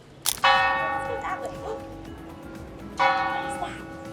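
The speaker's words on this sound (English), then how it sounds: "That's the top of the hour. That's the bell tower." A church bell tower in Barcelona strikes twice, each loud ringing stroke decaying slowly, with a dog yapping faintly between the strikes.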